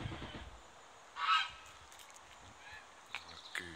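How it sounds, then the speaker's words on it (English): A goose honks loudly in one burst at a canal in Ilkeston, then gives a couple of fainter calls, with quiet outdoor ambience between. "My goose is having a go."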